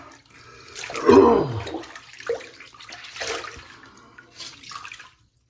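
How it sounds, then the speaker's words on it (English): Tap water runs and splashes as a shaving rag is rinsed out in a bathroom after a straight razor shave. A burst of gushing water comes first, then softer trickles and swishes that fade to silence. "let's rinse that rag out"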